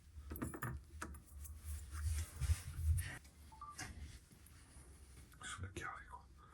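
A bunch of keys jangles close up in an abandoned villa in Italy, with several bursts of metallic clinking and rustling while someone whispers nearby.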